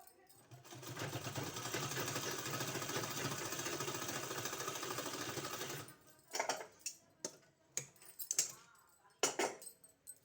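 Sewing machine stitching a kurti sleeve, running in one continuous loud rattling burst for several seconds, then stopping, followed by scattered clicks and handling knocks of the fabric and machine.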